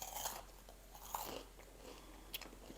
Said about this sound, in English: It's a good crunch. That was a good crunch.